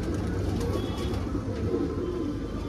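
Punjabi pigeons coo amid a dense, steady background rumble, low cooing blending into continuous noise over a few seconds, close but partly masked.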